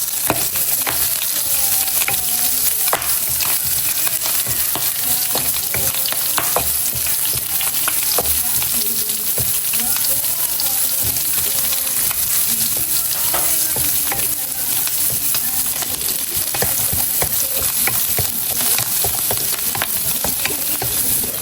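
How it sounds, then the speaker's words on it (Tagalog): Garlic and onion sautéing in a pan for mung bean stew, giving a loud, continuous close sizzle with frequent spatula scrapes and stirring knocks throughout, no voices. "magigisa na tayo ng bawang at sibuyas"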